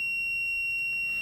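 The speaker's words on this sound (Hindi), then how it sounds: "देखो अलार्म बजने लग गया है" A rain sensor alarm on a smart agriculture monitoring system, triggered by water drops on the sensor, sounds a steady, unbroken high-pitched electronic tone at moderate loudness throughout.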